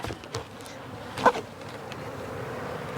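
Honey bees buzz around an open hive: a faint, steady insect drone with a louder bee zipping close past at one point.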